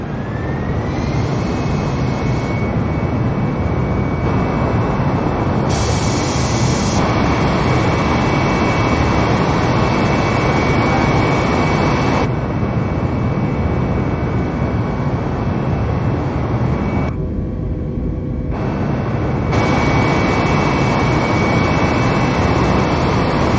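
Steady, loud roar of an Airbus airliner's jet engines at full power in Microsoft Flight Simulator, a continuous dense rumble and whine that holds throughout with only slight shifts in tone.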